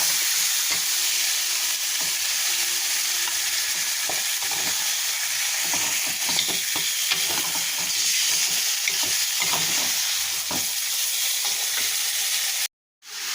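Chicken pieces frying in spiced masala with mustard oil, onion and chilli in a pan, a loud, continuous close-up sizzle with occasional stirring scrapes, cutting off abruptly near the end.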